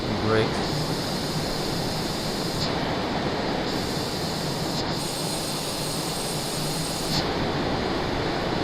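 Steady broadband engine drone and cabin rush inside a small airplane in flight, constant and loud, with a few brief shifts in tone and a voice speaking over it.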